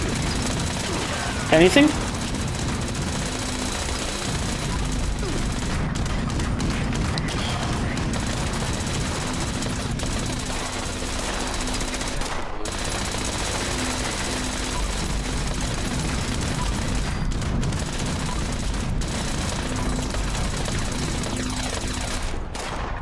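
Sustained video-game gunfire aimed at an explosive barrel during a shooter session, with dense bursts and booms running through the whole stretch under a player's occasional talk.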